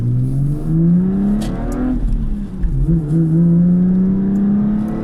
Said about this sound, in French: le moteur rechigne moins à monter dans les tours